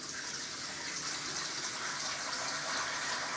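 Hot water running steadily from a tap into a container while brewing a Coopers Stout home brew beer kit, a constant close gush with no pauses and no voices.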